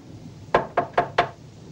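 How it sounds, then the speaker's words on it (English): Four quick, sharp knocks rap on a door in an even rhythm, close and clear against a quiet room. "Wait, there's someone at the door."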